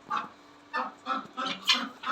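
Guinea fowl and ducks in a garden, a handful of short honking and squawking calls in uneven bursts, fairly close but quiet, with brief pauses between calls.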